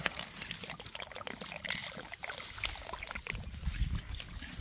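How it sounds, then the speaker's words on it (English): Running water splashes and gurgles steadily, a continuous rushing flow heard close by with no talking. "You can hear it gushing down the stream there."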